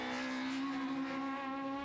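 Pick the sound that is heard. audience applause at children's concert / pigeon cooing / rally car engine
rally car engine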